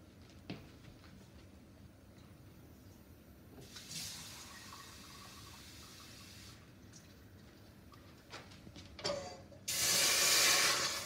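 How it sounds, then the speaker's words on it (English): Tap water being run into a cooking pot before adding brown rice, a steady hiss of flow that surges loud and close near the end. "So what I want to do here now is put my water in,"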